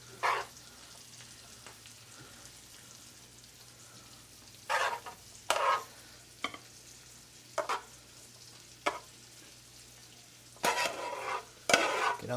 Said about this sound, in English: Get that butter right in front of you, and then just baste them. Just finish cooking them in the butter.